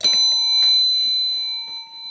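A bell rings with a bright, sustained metallic tone, its shimmering overtones ringing out and slowly decaying while brief bursts of nearby voices and movement cut in over the top.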